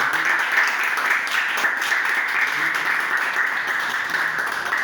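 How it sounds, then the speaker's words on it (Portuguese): A church congregation applauds after a worship song, a steady wash of many hands clapping continuously and fairly loudly throughout, with no distinct voices standing out. "Dê uma linda salva de palmas ao Senhor."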